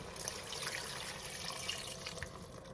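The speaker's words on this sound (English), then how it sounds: "Now we're going to add 2 cups of water" Two cups of water pour into a pot during chili cooking, a steady continuous splashing pour that runs the whole stretch with no talk.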